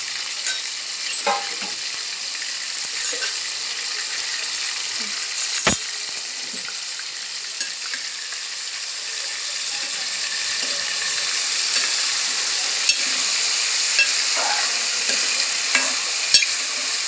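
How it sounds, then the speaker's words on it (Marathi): Prawns fry in a few spoonfuls of oil, a steady close hiss and sizzle that grows slightly denser over time, broken by occasional sharp pops and clinks of stirring, with no talking. "त्याला आता 3 चमचे तेलामध्ये कोळंबी फ्राय करून घ्यायची,"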